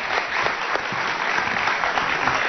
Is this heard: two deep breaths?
no